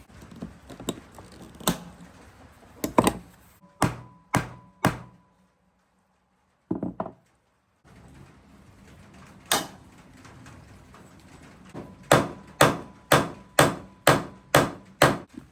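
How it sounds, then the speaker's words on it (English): Rivets are set into a survival tool sheath with sharp metallic hammer strikes. Some come singly and some in quick rhythmic bursts, close and loud, with a short silent gap midway and no speech. "And now we just repeat that process for the rest of the rivets, and we'll trim it to fit."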